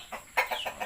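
Chickens on a pig farm give a short burst of rapid clucking, several quick close calls in succession over quiet background.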